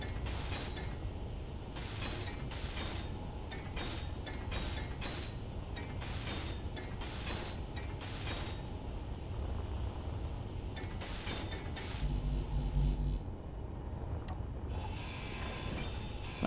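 A hand welding tool works on ship blocks in the game Space Engineers, giving a long run of repeated hissing bursts, each lasting about half a second, over a steady mechanical hum with no speech.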